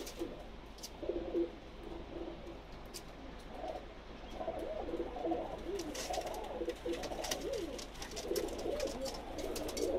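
Pakistani pigeons coo in soft, repeated rolling phrases close by, several birds overlapping, with faint chirps and light background noise and no talking.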